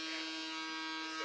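A handheld pore vacuum device buzzes continuously against a face, a steady close electric whine with no talking over it.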